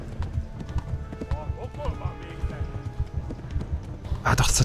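Horse hooves clip-clop at a fast gallop in the medieval game Kingdom Come: Deliverance, steady and rhythmic under excited speech, with a brief whinny-like cry partway through.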